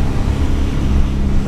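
A 1985 Suzuki Every with a 550cc engine revs high on its cold auto choke, giving a loud, steady drone with a low engine hum and no break.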